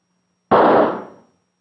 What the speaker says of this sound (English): When that firecracker went off,